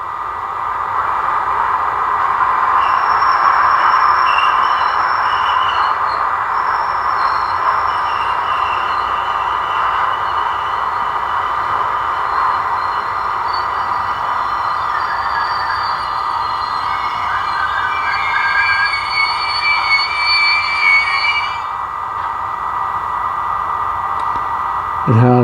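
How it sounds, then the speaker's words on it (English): Model train sound module playing a train passing by, a steady rushing rail rumble with faint squealing tones, fairly loud and continuous for most of the clip before tailing off near the end. "Has the train passing by,"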